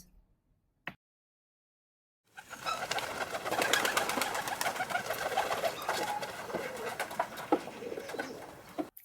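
After a single click and a few seconds of silence, pigeons coo softly and continuously, a gentle murmuring chorus close by.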